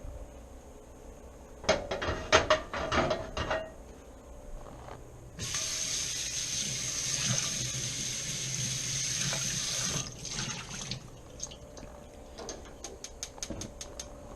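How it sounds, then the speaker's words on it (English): A cast iron pan is rinsed under a running kitchen tap, with a few clanks of the pan against the sink before and after several seconds of steady, hissing water flow, close by and without talk. "What I do now is rinse it."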